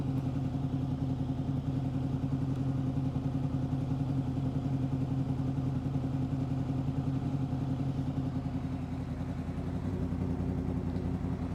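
A Honda VFR800 VTEC motorcycle engine idles steadily at 1200 RPM, a close, even, low burbling hum with a faint mechanical clatter that holds constant throughout.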